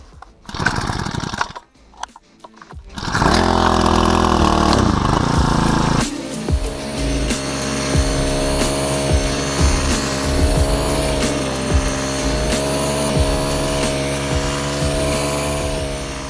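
An EVOline BCG series four-stroke petrol brush cutter engine starts after a few sputtering pulls, then runs steadily with a loud, buzzing idle and small throttle fluctuations throughout.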